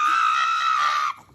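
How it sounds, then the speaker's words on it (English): A pug screams loudly and steadily during a nail trim, one sustained shrill cry lasting about a second before it breaks off abruptly. "the screaming dog, the pug"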